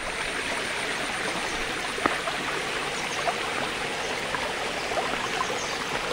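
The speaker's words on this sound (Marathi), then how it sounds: "पाण्याचाही आवाज आपण ऐकू शकताय, खळखळ." A stream flowing near a hidden waterfall in the Konkan hills, a steady soft rush and babble of water at moderate distance with a few faint drips and splashes and no voices.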